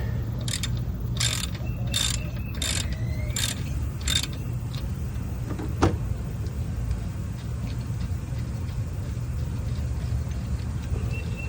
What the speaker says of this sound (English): We're going to go ahead and loosen it up. There it goes.